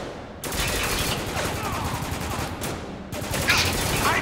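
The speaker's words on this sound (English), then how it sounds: "And when you think he might be done for good, you just keep shooting him." Rapid bursts of automatic gunfire crackle through a Spec Ops: The Line firefight, loud and nearly continuous with brief breaks, layered over battle noise.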